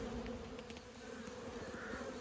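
Honey bees hum steadily at an open, crowded hive during a swarm-prevention inspection with frames of brood and eggs pulled out, a dense, even buzzing heard alone throughout.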